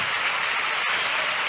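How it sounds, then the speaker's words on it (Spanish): Church congregation clapping during a women's congress service, a dense, even wash of many hands applauding continuously and fairly loud throughout. "Dale un aplauso a él."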